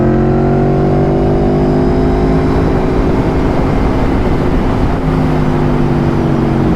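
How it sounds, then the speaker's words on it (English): Aprilia Tuono 1100 V4 motorcycle on a breakfast ride, its exhaust note a loud, steady drone with rising and falling engine pitch, close and continuous with wind noise and no talking. "Love the exhaust note."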